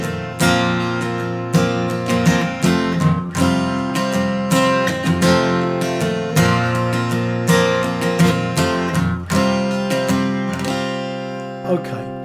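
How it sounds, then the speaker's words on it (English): Acoustic guitar with a capo plays the second guitar part of a song, strummed chords in a steady repeating rhythm, close and bright, with no talking. "So let me just focus on what those chords are for the second guitar part."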